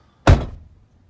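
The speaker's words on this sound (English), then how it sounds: "Closing the door," The driver's door of a 2017 GMC Sierra All Terrain pickup shuts with one solid, heavy thunk, close and loud, then fades quickly into quiet with no voices.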